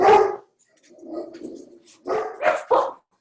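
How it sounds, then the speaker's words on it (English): Several dogs bark in short bursts, one loud bark first, then a softer muffled stretch, followed by three sharp close barks in quick succession. "And we have dogs."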